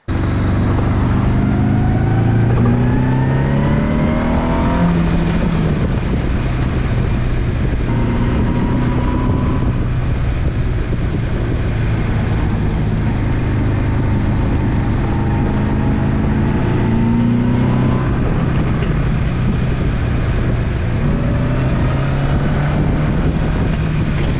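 A 1975 Honda GL1000 motorcycle's engine drones loudly and continuously on a ride, its pitch rising and falling through repeated gear changes, with steady wind rush over the full length.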